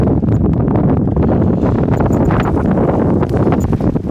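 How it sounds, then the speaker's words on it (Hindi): Strong wind gusts buffet the microphone on Umling La pass, with cloth flapping rapidly in a dense, loud, rough roar that carries on without a break. "सामने कपड़े इतनी तेज़ उड़ रहे हैं, इतनी तेज़ ये हवा चल रही है कि उसकी आवाज़ यहाँ तक आ रही है"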